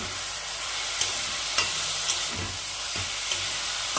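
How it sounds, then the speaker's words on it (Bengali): Jaggery and grated coconut stirred and sautéed in a pan for Kodom pitha, a soft sizzle with a few scraping spoon strokes spaced about half a second apart, close and steady with no talk. "দিয়ে ভালো করে নেড়ে চুড়ে কষিয়ে কষিয়ে গুড়টাকে রেডি করতে হবে"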